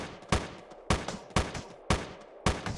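Five evenly spaced handgun shots in the top-down game Teleglitch, each a sharp, loud crack with a short decaying tail, fired at a steady pace of about one every half second.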